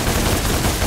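Rapid gunfire from the Devil May Cry video game crackles densely and loudly throughout the brief moment, with no talk over it.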